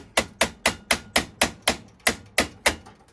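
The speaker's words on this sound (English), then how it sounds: "Wielding a 3-pound mini sledgehammer is a little bit crazy." A 3-pound mini sledgehammer strikes a paint scraper in about a dozen sharp metallic blows, evenly spaced roughly a quarter second apart, loud and close with no talk.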